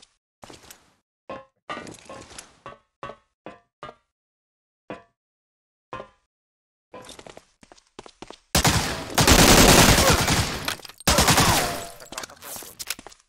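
Sharp, isolated gunshots in a shooter video game crack one after another with pauses between, then a dense, loud burst of rapid automatic fire takes over near the end.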